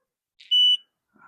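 An automatic dual swing gate opener's control box emits a single loud, steady electronic beep lasting about a quarter second, shrill and close, followed by a faint brief tone.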